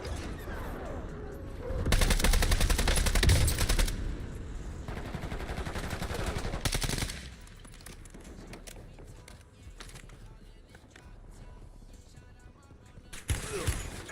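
Bursts of rapid video game gunfire, loud and dense, with a near-continuous automatic volley followed by a long sustained stretch and a final short burst after a quieter gap.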